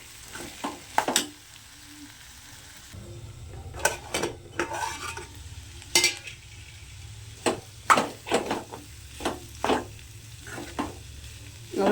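A spoon repeatedly scrapes and stirs potato stir-fry in a metal pan, giving irregular sharp clinks and scrapes over a soft, steady sizzle with no talking.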